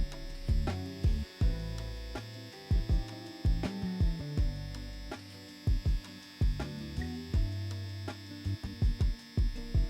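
Tattoo machine buzzing steadily while a guideline is pulled on a simple beginner design, a close electric hum broken by short repeated bursts and pauses, with no voices.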